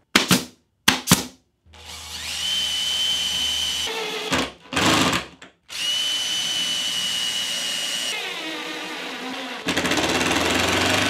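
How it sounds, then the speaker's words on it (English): A power sander works the top of a wooden T on a homemade table saw fence, starting with a few short bursts before settling into long, loud, steady whirring runs with brief stops between them. "I'm sanding the top of the T to make it nice and flush and clean it up."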